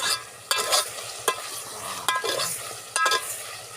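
Ginger garlic paste, coconut and potatoes sauté in a pan, a soft sizzle punctuated by four sharp, evenly spaced stirring scrapes and knocks of the spoon, close and without voices.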